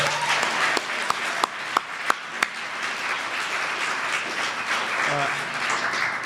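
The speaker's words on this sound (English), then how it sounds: "Can we give him another round of applause?" Steady audience applause at a political holiday gathering, dense and continuous, with a few sharper individual claps standing out early on.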